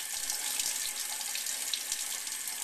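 Tap water runs steadily into a sink as squid is rinsed and drained, a close, continuous splashing hiss with small spattering bursts.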